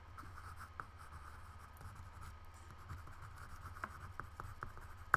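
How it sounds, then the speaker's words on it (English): Pencil scratching steadily across paper at close range with faint rubbing strokes, quiet and continuous over a low background hum, during a sheep drawing session. "I'm going to write that down."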